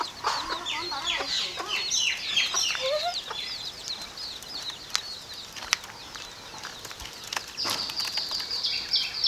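Quail birds kept in a cage chirp and cluck in quick, busy bursts close by, with sharp wing or cage taps scattered between calls and a quieter stretch in the middle.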